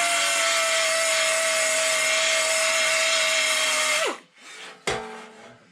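A power tool strips the coating from the bare metal of a 1982 VW T3 single cab before welding, giving a loud, continuous high whine that winds down and stops, followed by a short clunk.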